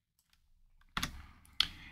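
A computer keyboard during a Photoshop editing session gives two quick clusters of typing clicks about half a second apart, fairly close and soft, with near silence before them and no talking.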